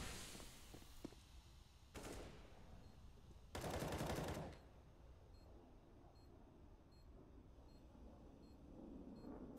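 Gunfire in a Counter-Strike match on the Overpass map between Heroic and Red Reserve: three loud bursts of rapid shots, the last the longest, separated by quieter game ambience.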